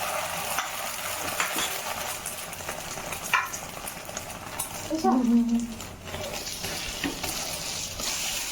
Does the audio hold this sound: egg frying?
yes